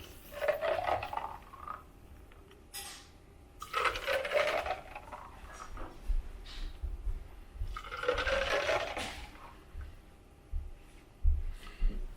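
Keto Chow shake poured from a container into three blender bottles in turn, three separate splashing pours with quiet gaps between, fairly faint and close, no speech.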